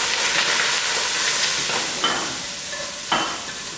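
Masala spices hit hot oil with ginger and garlic for a broad bean curry, giving a strong sizzling hiss that fades slightly, broken by a couple of sharp scraping stirs.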